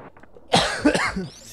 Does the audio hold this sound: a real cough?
yes